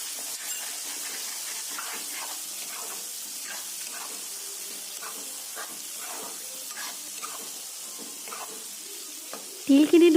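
Pork frying in a pan with sesame paste gives a steady close sizzle, with stirring scrapes throughout and a louder clatter right at the end.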